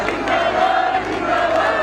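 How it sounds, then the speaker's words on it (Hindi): A large crowd at a Jaipur National Unity Day march cheers, applauds and shouts together in a loud, sustained roar, with one raised voice carrying above it. "एक बार जोरदार तालियों के साथ भजन लाल शर्मा जिंदाबाद"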